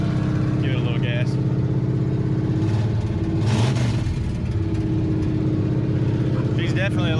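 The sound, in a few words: pickup truck engine revving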